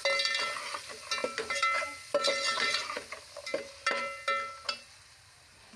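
Peas frying in a pan, a sizzle under repeated metallic clinks and scrapes of a spoon stirring against the pan, rhythmic and close.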